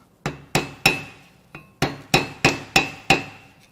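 Eight sharp metallic hammer strikes on a chisel driver, knocking a thrust bearing out of a salt-water-flooded Camaro LS1 engine, spaced irregularly and ringing briefly, close and loud with no talking.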